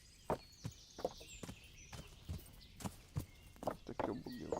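Horse hooves clip-clop at a walking pace in the video game Kingdom Come Deliverance, a series of distinct, fairly faint thuds in uneven rhythm over a soft ambient backdrop.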